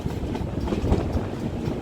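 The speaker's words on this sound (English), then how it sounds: "Audley Manor on the West Somerset Railway with the 12:20 PM service from Minehead to Bishop's Lydiard on our way towards Dunster." Steam locomotive 7828 Odney Manor working a West Somerset Railway service from Minehead towards Dunster, heard as a steady rumble of rolling carriages with faint rhythmic wheel clicks on the rails, continuous and fairly close.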